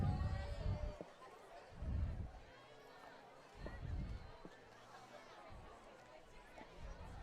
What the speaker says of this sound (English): A good crowd here for the Citrus High Hurricanes, even though they're up by a lot.